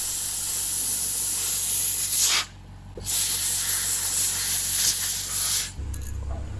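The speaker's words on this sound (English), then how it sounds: "Now it's time to dry the parts with some compressed air." Compressed air blasts while drying parts from an Aprilia RS 125 two-stroke motorcycle's steering bearing service, a loud close hiss in two long bursts broken by a short pause, then tapering off.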